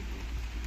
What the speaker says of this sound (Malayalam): മഴയത്താണ് ഞങ്ങൾ ഇരിക്കുന്നത്.